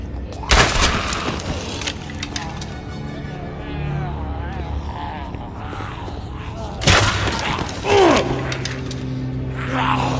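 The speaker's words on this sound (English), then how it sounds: "Some crazy asshole is sniping at us" A sniper fires in the zombie game The Walking Dead: Survival Instinct, two loud, sharp cracks several seconds apart with a lingering boom, heard among ongoing voices and background noise.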